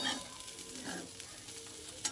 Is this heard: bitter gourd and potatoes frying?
yes